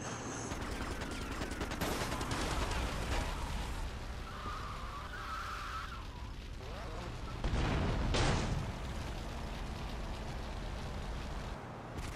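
Gunfire in GTA Vice City Definitive Edition during a driving chase, repeated shots mixed with car engine noise and tire skids, loud and continuous throughout.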